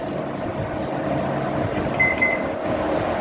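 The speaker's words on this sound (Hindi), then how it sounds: "समझ में आया ये कि माइक्रोवेव अच्छे से 900 वैट सेलेक्ट कर लिया आपने" A Samsung MC32J7035CL microwave oven runs at 900 watts with a steady low hum and a constant mid-pitched drone, close and even throughout, with a brief faint high tone near the end.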